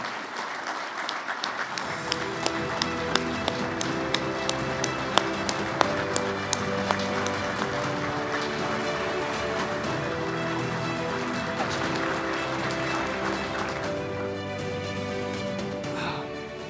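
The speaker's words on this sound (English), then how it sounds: "with your applause, please help us welcome Stephen Pfeiffer into the St. Louis Sports Hall of Fame" Audience applause at the St. Louis Sports Hall of Fame winter induction ceremony, welcoming inductee Stephen Pfeiffer: a dense, steady wash of clapping from a large crowd that swells in after a brief quiet start and holds without talk.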